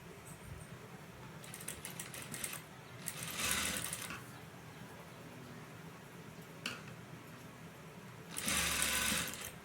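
Sewing machine stitching the neck piece of a lace V-neck blouse, running in three bursts, the last two louder and longer, with short pauses and a small click between them.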